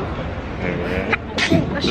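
A single short, sharp sneeze bursts out close by, set against ongoing chatter and background murmur in what sounds like a seated venue.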